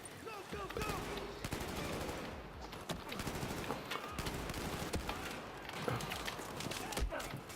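Rapid automatic gunfire and explosions from the Battlefield 4 video game, dense and continuous throughout, with a person shouting excitedly over the battle.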